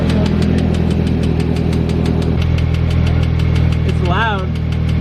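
A Nissan S13 engine idles loudly and close with a fast, regular ticking from the transmission running through it; a brief voice is heard near the end.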